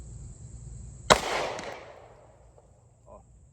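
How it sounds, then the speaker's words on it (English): One sharp, loud CZ-75 pistol shot fired with a double-action trigger pull at a playing-card target outdoors, followed by a fading echo tail and a faint small noise afterward. "I'm going to shoot at that 8 of clubs, I think, is going to be my target right now with that double action trigger pull"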